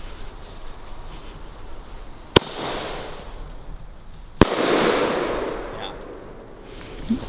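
Thunder King firework with a bouquet and titanium effect, two sharp loud bangs a couple of seconds apart, each followed by a crackling, hissing shower that slowly fades.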